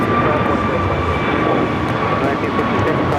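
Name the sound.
Boeing 787 Dreamliner arriving on runway 25 left at LAX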